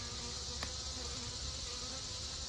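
Bees in a beehive fitted with beetle blaster traps make a steady, dense, faint buzzing that holds evenly throughout, with one brief click partway through.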